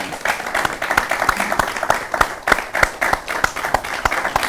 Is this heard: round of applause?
yes